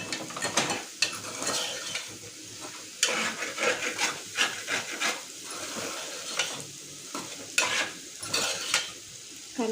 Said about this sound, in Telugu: రుచికి సరిపడా సాల్ట్, వేసి ఒకసారి కలుపుకోవాలి.